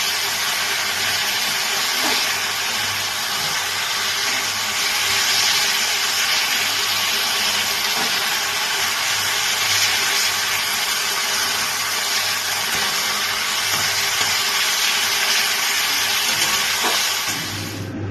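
Mustard leaves ground into a paste in an electric grinder, a loud, steady, unbroken whirring roar held close for the full stretch, no voices.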